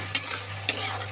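Tilapia fish curry with salt, turmeric and chilli powder sautéing in oil in a pan, a steady soft sizzle broken by two quick scraping stirs of a spoon.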